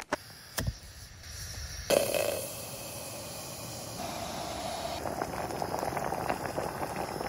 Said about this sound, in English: All right, water is boiling.